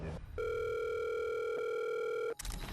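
A steady telephone tone holds for about two seconds, loud and alone, heard as a draft-day phone call connects, with brief noise before and after.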